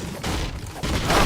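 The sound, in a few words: gunfire in a video game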